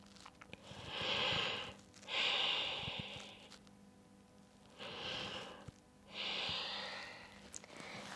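Slow, audible breaths exhaled through the nose during a yoga bow pose with one leg lifted, four long airy pushes in two pairs, close and fairly soft with quiet gaps between.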